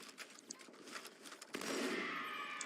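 Sustained burst of gunfire from enemies in the video game Mangler Mythic Quest 7, starting abruptly after scattered quieter shots and continuing loud and dense to the end, with no talk.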